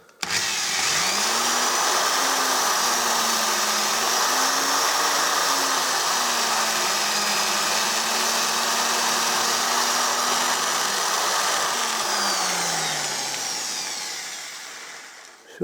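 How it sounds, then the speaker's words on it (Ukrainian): A drill boring holes in a homemade fishing spoon lure: a loud, close, steady whine that holds for about eleven seconds, wavers slightly in pitch, then winds down and stops. "ось просвердлив одну дирочку і ось другу"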